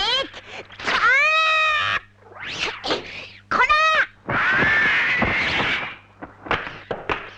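Loud, harsh cawing calls from a vulture in an anime, repeated squawks close by with brief gaps, some sounding strained and groaning.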